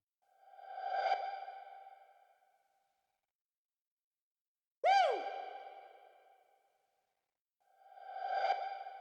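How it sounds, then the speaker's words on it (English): Synthesized whoop effects with reverb, made in Ableton Live for a bass house track. Three separate pitch-sweeping whoops sound alone, each trailing off in a long reverb tail. "We have these whoops and whoop effects."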